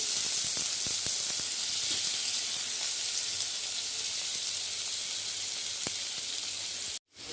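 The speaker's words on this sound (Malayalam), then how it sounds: "ഇപ്പോൾ ചിക്കൻ പൊരിക്കാനുള്ള പരിപാടിയാണ് നല്ല ചട്ടയൊക്കെ ചൂടായി ഇത് കൊടുക്കുകയാണ്" Chicken pieces frying in ground masala in a hot pan give a steady, close, loud sizzle with faint scattered pops and crackles throughout, no voices, cut off abruptly near the end.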